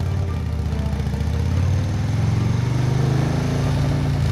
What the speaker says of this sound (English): He revved the engine, released the brake